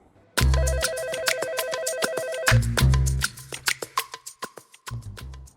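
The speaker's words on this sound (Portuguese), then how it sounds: "Vamos ligar para esse menino aqui." A phone call rings out in a repeated electronic tone, two loud bursts separated by a short pause and followed by scattered clicks and a final short burst, heard close and with no talk.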